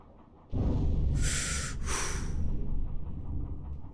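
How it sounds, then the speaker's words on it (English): Depth charges explode near a submarine in a video game, with a sudden deep boom followed by a rumbling, hissing roar that swells twice and then slowly fades. "Yep, depth charges, I hear you."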